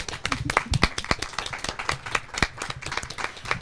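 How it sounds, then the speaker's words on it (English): A small audience at a book presentation claps in a scattered, uneven patter of distinct individual hand claps, moderately close and with no talk over it. "give a warm applause to our three ladies here on stage"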